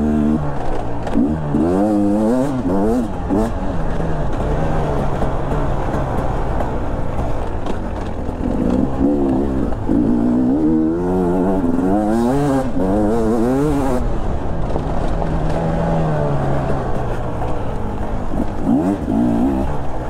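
A 2022 Beta 250 RR two-stroke enduro motorcycle ridden off-road, its engine buzzing loud and close as it revs up and down repeatedly over the whole stretch, with no letup.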